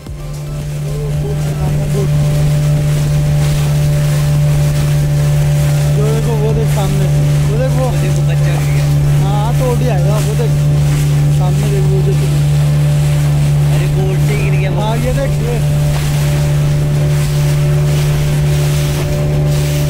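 A motorboat carries passengers on a 20 to 30 minute sea crossing to Elephant Beach on Havelock Island in the Andamans. Its engine drones loudly and steadily throughout, with water noise and some voices in the background.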